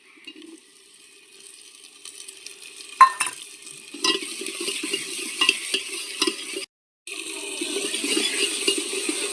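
Coriander and dried fenugreek frying in a pan, with tomatoes and green chilies then added, give a steady low sizzle broken by a few sharp clinks and stirring scrapes, close and moderately loud, with no one talking.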